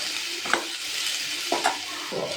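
Carrots and green beans are stirred in a frying pan, several scraping strokes over a steady, hissing sizzle, close and alone.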